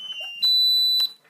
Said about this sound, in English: This is just the alarm going on because something's tampered with the system.